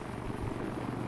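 A helicopter in the military video game ArmA III drones steadily with a thick rotor and engine rumble, moderately distant and constant, with no talking.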